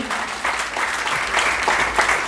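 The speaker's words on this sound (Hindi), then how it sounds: "जोरदार तालियों के साथ इसका स्वागत कीजिए" Guests at a community foundation-day gathering are welcomed with applause from the audience, a close, fairly loud burst of clapping with a few distinct sharp claps rising through it.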